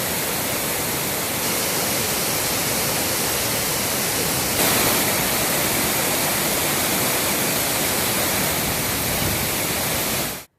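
The Courtallam waterfalls in heavy flow after rain make a loud, unbroken roar of rushing, crashing water that holds steady throughout with no voices.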